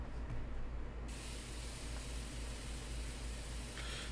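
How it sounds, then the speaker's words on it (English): A video game shower running, a steady broadband hiss of spraying water pattering on the floor that shifts in tone about a second in, continuous and close with no voices. "The sound of Senpai's shower patters on the floor as I remove my clothes."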